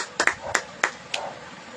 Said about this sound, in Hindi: ताली बजाएंगे सब।